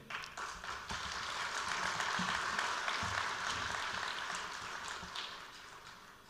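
Delegates at a party congress for the Country to Live In party applaud steadily, a dense, even wash of many hands clapping that swells and holds for several seconds before tapering slightly.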